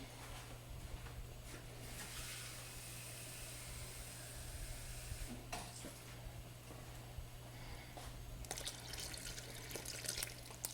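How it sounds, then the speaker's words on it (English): Water is added to a pot of Louisiana gumbo, making a soft, faint trickle and splash that runs on and off with a few brief louder pours, and no one speaks. "I think I'm gonna add a little more water in there."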